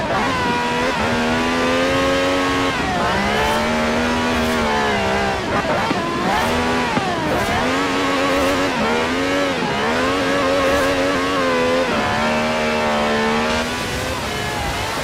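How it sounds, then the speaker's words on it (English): A V12 car engine of over 750 horsepower in Forza Horizon revs and accelerates, its loud tone rising and falling through repeated gear shifts, with a short drop in pitch between each pull. "No clattery diesel engine here. This has a V12 with over 750 horsepower"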